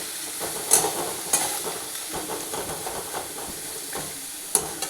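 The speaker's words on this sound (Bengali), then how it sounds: "এবারে পেঁয়াজটাকে লালচে করে ভাজবো।" Onions frying in a pan until reddish brown, a close continuous sizzle and hiss with spatula scrapes and a few sharp clicks of stirring, no voices.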